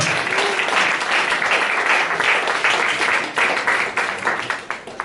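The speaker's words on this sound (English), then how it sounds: "so please big applause" Audience applause at a Startup Grind startup event in Bratislava, steady dense clapping from a crowd that holds for several seconds before thinning into scattered claps toward the end.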